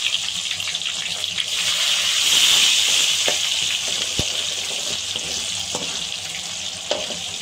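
Thinly sliced onions hitting hot oil for a fish curry, setting off a loud, close sizzle that swells briefly, then settles into steady frying with faint stirring clicks.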